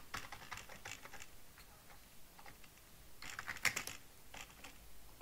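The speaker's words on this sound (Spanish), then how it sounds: "Tengo el teclado." Quiet, irregular keystrokes on a computer keyboard tap in short bursts, faint and close, with no talk.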